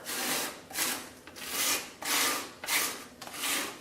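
A trowel burnishing the top layer of plaster on a wall, sounding as repeated rhythmic scraping strokes, about six in under four seconds, close and fairly loud, with no talk.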